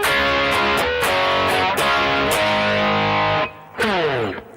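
A heavily distorted electric guitar plays the verse riff of a song, dense palm-muted chugging chords in a driving rhythm, loud and close, breaking briefly before a final open-string strum.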